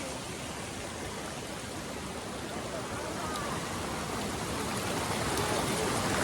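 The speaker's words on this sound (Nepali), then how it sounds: "ओहो यो झरना हो त?" Rushing water roars steadily from a close waterfall, Hatrung Falls in Terhathum, Nepal, a dense, unbroken wash of noise that swells slightly toward the end.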